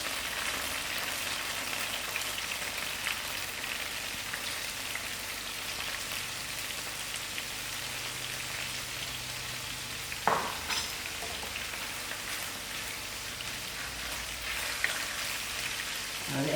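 Onions fry in oil over lowered heat for a spicy chicken liver chutney, a steady close sizzle and crackle with one brief clatter partway through.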